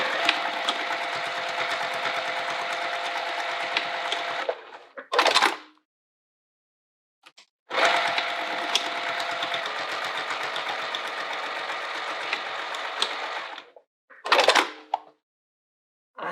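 A sewing machine stitching a small fabric wallet runs in two long steady buzzing bursts, each ending with a brief clunk of handling and followed by silence, close and loud.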